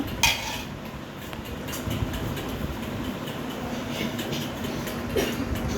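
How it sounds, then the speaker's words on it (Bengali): Mango pickle made with Bombay chilies and garlic is spooned into a warm jar and stirred: a sharp clink of spoon on jar, then ongoing soft scraping and faint knocks, close and quiet. "এখন আমি আচারগুলো ভরে নিব। উপর থেকে নিচ পর্যন্ত নেড়ে তারপর আচারটা রেখে দেব।"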